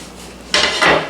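Kielbasa and hash browns are stirred together in a crock pot, with two quick, close scraping clatters of a utensil against the pot after a quiet start.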